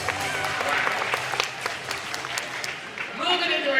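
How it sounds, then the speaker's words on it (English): Audience applause at a dog competition, a steady wash of clapping throughout with a crowd underneath and voices mixed in. "How about a big round of applause, ladies and gentlemen?"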